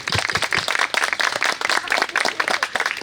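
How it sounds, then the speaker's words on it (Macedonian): An audience at a picture book launch in Skopje applauds the book's illustrator Nataša, a dense, steady burst of many hands clapping close and loud for the whole stretch. "Аплауз за Наташа."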